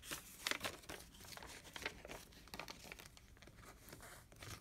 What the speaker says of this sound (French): Là, il y a mon enveloppe. Donc, je viens y mettre 20 euros.